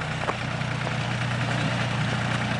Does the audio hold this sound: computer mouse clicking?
no